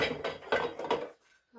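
Metal lid set onto a cooking pot of simmering homemade meatballs: a quick run of three or four clattering knocks and rattles up close, then a sudden drop to near silence.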